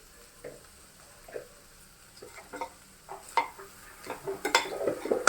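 Butter sweet corn being stirred with chaat masala in a bowl, a spoon scraping and clinking in irregular bursts that grow louder and busier toward the end, close by with no talking.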